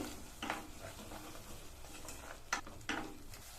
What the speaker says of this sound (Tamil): இதுல கொஞ்சமா தண்ணி சேர்த்து நல்லா ஒரு தடவை கலந்து விட்டுருங்க